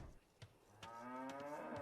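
Cattle mooing in the Age of Empires II strategy game, heard as a single drawn-out, low, tonal moo that swells toward the end. It is fairly faint and stands alone with no voices over it.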